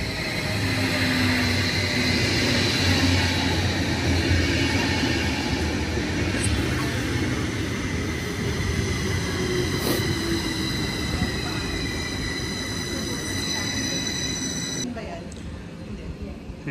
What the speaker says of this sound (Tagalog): Ito na yung train.